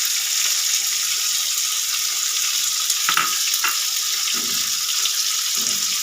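Tomatoes, green chillies and spices fry in a pan with a steady, dense sizzle throughout, broken by a couple of brief clatters of stirring near the middle, with no talking.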